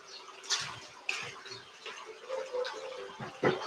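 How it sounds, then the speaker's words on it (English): Hands being rinsed under a running tap in a home kitchen during medieval-style cooking, with stuffed trout dough just rolled out; a steady, close water flow with a few splashy bursts and clatters, no talking. "I'm just going to wash my hands off a bit."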